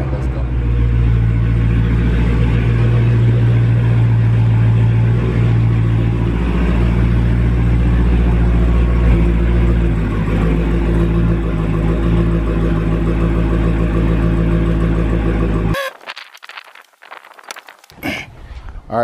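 A Dodge Hellcat's engine rumbles loudly and steadily as the car is pulled out to have its tires switched, then cuts off abruptly near the end, leaving only a few quieter knocks.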